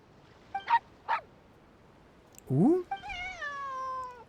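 A cat meowing in the video game Genshin Impact: two short mews, then a rising, drawn-out meow and a longer wavering call, fairly close and clear.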